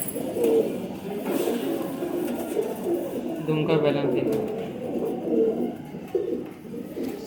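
Pigeons coo during a pigeon sale at Liaquat Market, a soft, continuous cooing that sits beneath someone talking closely throughout.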